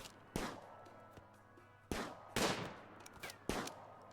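Gunshots in the Rimworld video game, a handful of faint, sharp cracks spaced irregularly over a few seconds.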